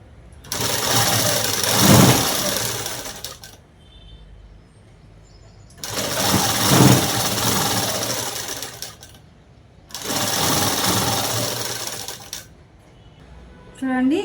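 A sewing machine stitches fabric for work pants in three long, loud runs of rapid mechanical chatter, each lasting a few seconds with quiet pauses between.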